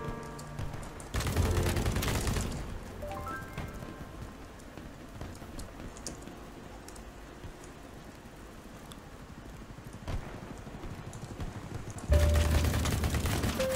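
Ultimax 100 machine gun in BattleBit Remastered, loud sustained automatic bursts at the start and end with quieter scattered game sounds between, no talking.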